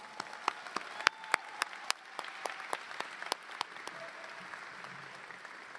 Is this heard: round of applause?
yes